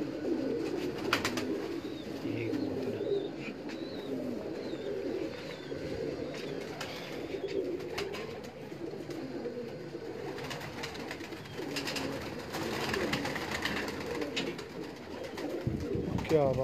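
Pigeons kept by a pigeon fancier in Sialkot, Punjab coo in soft repeated murmurs throughout, with occasional faint chirps and flutters over a low background hum, fairly quiet and steady.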